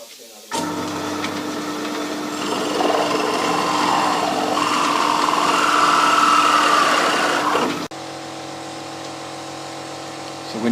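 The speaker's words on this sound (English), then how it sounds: "now drill a hole." A power drill whirs steadily at high speed, its pitch rising and straining as it bores into wood, then cuts off abruptly to a quieter hum.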